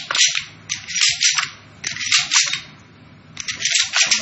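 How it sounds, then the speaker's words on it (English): A Smith & Wesson pistol's slide is cycled repeatedly by hand, ejecting five rounds. The result is a series of sharp metallic clacks and rattles in several bursts, close and fairly loud, with no talking. "5 rounds ejected. Slide is locked open."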